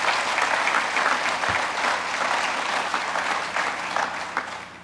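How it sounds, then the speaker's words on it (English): A crowd applauds at an event about rocket launches resuming from Cape Canaveral launch pads, a broad sustained roar of many hands clapping, loud and close, tapering slightly at the end. "That's worth applauding."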